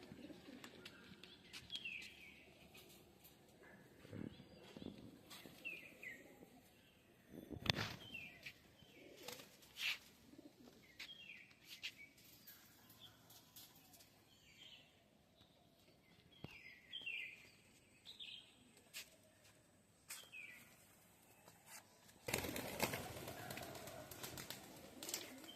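Three pigeons released outdoors, with soft cooing and scattered chirps, occasional wing flaps and a burst of flapping near the end over low background noise.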